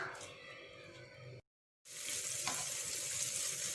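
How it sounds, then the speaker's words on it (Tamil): Chopped onions frying in oil in a kadai for an egg masala side dish: a steady hiss and sizzle that cuts out briefly, then returns louder and brighter as the onions go in. "எண்ணெய் போட்டுக்கலாம். 2 வெங்காயத்தை சின்ன சின்னதாக கட் பண்ணி எடுத்து வச்சிருக்கேன், அதை சேர்த்திக்கலாம்."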